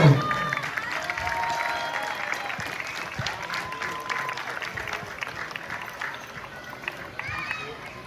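A crowd applauds and cheers at a local football tournament's award ceremony for the best goalkeeper, loud continuous clapping heard close with a few voices calling out among it.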